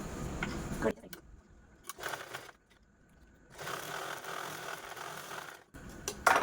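A sewing machine stitching a fabric wallet pocket runs in short mechanical bursts, with a longer whirring run in the middle and brief pauses between stitches.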